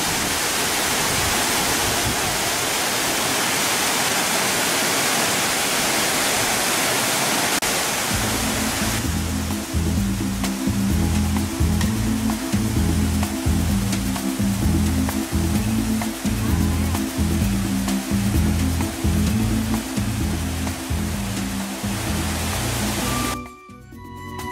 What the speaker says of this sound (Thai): ตอนนี้เรามาน้ำตกเจ็ดสี